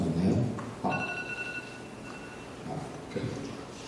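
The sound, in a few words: telephone ringing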